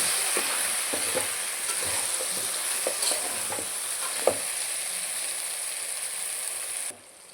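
A spoon scrapes and taps around a pot of pumpkin sambar in an uneven rhythm over a soft background sizzle, then the sound cuts off abruptly near the end.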